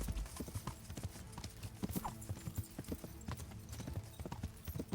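Horse hooves clip-clop steadily in the medieval video game Kingdom Come: Deliverance, with a rapid, even rhythm of close hoofbeats over background game ambience and an occasional faint whinny.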